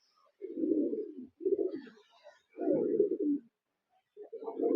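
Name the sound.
kaldoma pigeons cooing in a loft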